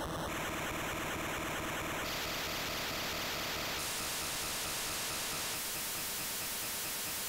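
A continuous hiss of digital noise from the Game Boy noise channel that shifts in pitch and tone in steps, with high bright bands dropping away.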